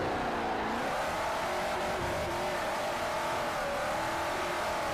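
Drift car, a Camaro or Scion FRS in a racing game, its engine droning and revving in steady waves while tires squeal faintly beneath, loud and continuous with no voices.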